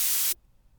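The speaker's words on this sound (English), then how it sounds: "You can add a little noise to your sound. There are 4 different types of noise." Loud hissing white noise from the noise generator of the Air Hybrid 3 virtual synthesizer, cutting off abruptly to near silence.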